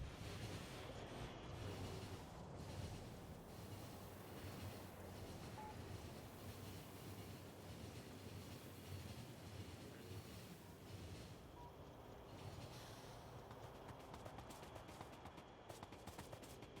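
Iron train running in Factorio: a steady, faint rolling rumble with soft rail clatter persisting throughout, fairly constant and distant.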